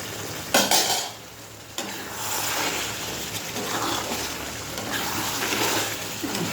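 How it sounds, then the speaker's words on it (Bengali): Pre-fried potatoes tipped into a pan of meat cooking with ground coriander leaves, a brief clatter and splash followed by steady sizzling and stirring scrapes, close and fairly loud. "আমি যে আলুটা ভেজে রেখেছিলাম, আলুটাও আমি দিচ্ছি"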